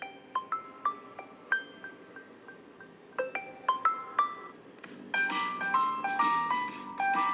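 Ringtone playing from a OnePlus Nord CE 3 Lite phone speaker, a bright plinking melody of chime-like notes in short phrases that grows fuller and busier toward the end, moderately quiet.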